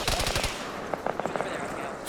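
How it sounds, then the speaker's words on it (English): Machine gun fire rattles in Arma 3, a quick burst of rapid shots up front followed by scattered, more distant single reports and a final crack, with faint talk underneath. "You can hear it. That MG fire."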